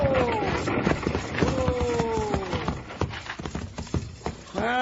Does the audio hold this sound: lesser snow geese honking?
no